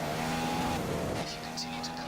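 A Formula 1 car in the F1 2015 racing game at Montreal, taken slowly into a corner on cold tyres, its steady engine drone running throughout with faint tyre scrub toward the end.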